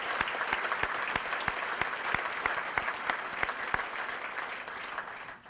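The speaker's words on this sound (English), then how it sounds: "Let's applaud that." Audience applause at the Earl Campbell Tyler Rose Award 2015 ceremony, a steady round of clapping from a sizable crowd with a few sharp individual claps standing out, fairly distant and holding even before tapering at the end.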